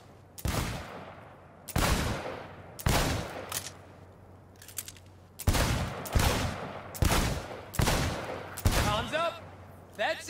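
Gunfire rings out at a shooting contest in Cyberpunk 2077, with a series of loud, sharp shots spaced about a second apart and short reverberant tails, close up, with brief voices around them.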